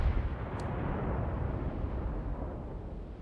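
Naval cannon fire booms in the World of Warships game, a low rumbling blast that rolls on and decays steadily, with a faint sharp tick near the start.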